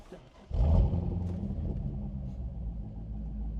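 A Corvette C6's V8 engine starts with a sudden deep rumble, heard from inside the car, then settles into a steady low idle that stays loud.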